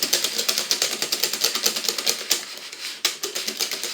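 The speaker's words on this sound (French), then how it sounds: "en mélangeant correctement à l'aide d'un fouet, on n'aura plus de grumeaux" A whisk beats cake batter for a savory mini cake with chorizo and raisins, producing a fast, steady rattle of taps against the bowl, loud and close.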